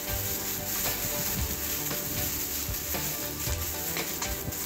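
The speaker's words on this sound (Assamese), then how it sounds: "এনেদৰে পিঁয়াজখিনি অকণমান ৰঙচুৱা হোৱালৈকে ভাজি থাকিম" Onions fry with cumin and ginger-garlic paste for an egg curry, giving a dense, continuous sizzle broken by scraping and rubbing strokes of a spatula in the pan.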